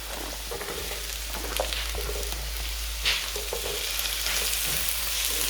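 Ginger, cauliflower and carrots sizzle steadily in a hot pan, a dense continuous crackle with occasional stirring scrapes and clinks, close and even in level with no voices.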